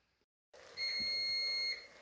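A single electronic alarm tone sounds sharp and steady for about a second after a brief silence, piercing and close.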